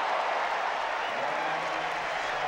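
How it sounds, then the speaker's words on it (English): Steady applause from a large tennis crowd at the 2007 US Open, a dense wash of clapping that stays even and sustained throughout. "And even Radwanska applauding that."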